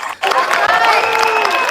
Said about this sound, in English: Why is the crowd cheering?